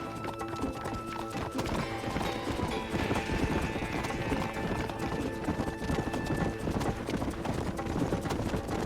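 Horses galloping in Red Dead Redemption, a steady rapid clip-clop of hooves over dense game score and ambience, with an occasional whinny and faint shouting voices.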